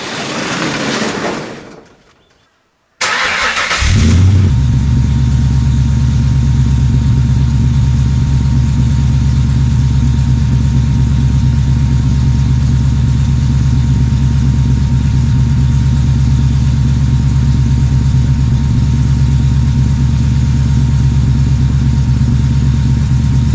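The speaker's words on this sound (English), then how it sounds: "see what the car sounds like with a full Herrod exhaust and full Herrod cams" A Ford BF Falcon GT engine with Herrod exhaust and Herrod cams cranks and fires up from cold after a brief silence, then settles into a loud, deep, lumpy idle with a throaty exhaust rumble.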